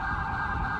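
Police siren in the game GTA V with the LSPDFR mod, a steady wailing tone blaring loud and continuous for a brief moment with no talk over it.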